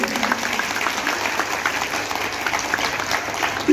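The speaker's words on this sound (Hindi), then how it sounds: "तालियां बजाते रहिए" Steady applause from an audience at a school convention-centre event honoring motherhood, a dense, even patter of many hands clapping continuously at moderate loudness without speech.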